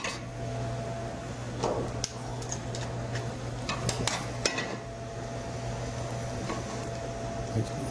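Ingredients for a Texas barbecue sauce base clatter into a metal pot, with scattered clinks and knocks over a steady kitchen hum.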